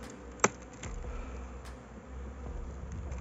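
Honeybees buzz around an open hive between styrofoam and wooden hives, a soft continuous drone close by with a couple of sharp clicks of hive handling.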